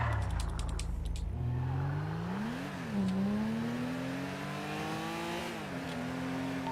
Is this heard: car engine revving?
yes